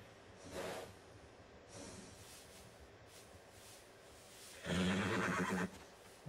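A Dutch Warmblood horse in Red Dead Redemption 2 whinnies twice, a short faint neigh early on and a louder, longer one near the end, over a quiet background hiss.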